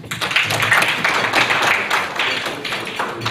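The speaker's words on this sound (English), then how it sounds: "Very big round of applause." An audience at a CEO breakfast meeting claps in a dense burst of applause, close and fairly loud, with scattered individual claps standing out.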